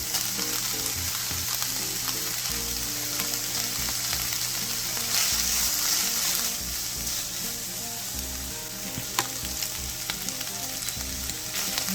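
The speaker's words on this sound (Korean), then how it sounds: "그리고 다진 마늘. 호박도 넣고 국 볶아줄게요." Zucchini and minced garlic stir-frying in a pan give a steady, close sizzle throughout, with faint stirring scrapes and no voices.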